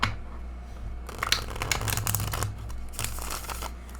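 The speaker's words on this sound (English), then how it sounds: "We want to shuffle these? Let's shuffle them." A stack of gilded tarot cards is shuffled up close, quick riffling and sliding bursts over a steady low hum, with no voices.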